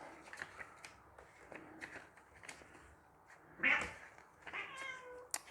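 Cats meow close by during the unboxing of an Elegoo Mars 5 Ultra 3D printer, a loud sharp cry near the middle and further rising calls toward the end, over soft rustling of packaging.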